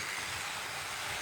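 A noisy OO gauge model train engine runs steadily on its track, giving a faint, constant whirring hiss of motor noise with no talking.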